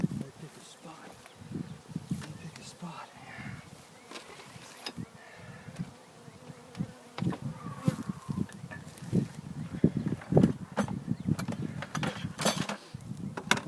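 A large honeybee swarm buzzes on a cedar tree, a steady low hum heard alongside rustling and handling noises, with people talking through much of it.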